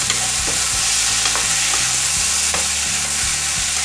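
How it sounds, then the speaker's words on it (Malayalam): Potatoes stirred into a frying potato and beans curry bring a loud, dense, close sizzle under rhythmic scraping and thumping of a spoon against the pan, repeating steadily throughout, with no talking. "പിന്നെ ഈ പൊട്ടറ്റോ ഇതിലോട്ടിടും. ഇത് നന്നായിട്ട് ഇളക്കുക."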